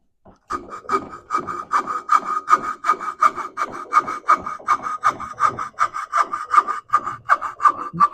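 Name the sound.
carving wood at cheek and bill of eider drake head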